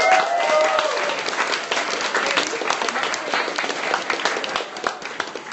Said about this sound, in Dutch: daar wil ik jullie toch een applaus voor vragen